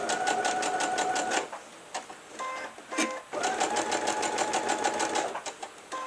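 A sewing machine stitches around a fabric sunflower trivet in a fast, close mechanical whirr, running in two long bursts with a brief pause and some handling clicks between them.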